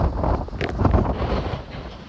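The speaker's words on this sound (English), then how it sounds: "Now we're about to hit the bow and it gets super windy here." Steady, blustery wind roars across the microphone at the bow of the S.S. Badger ship deck, with low rumbling buffeting, fairly loud and continuous throughout.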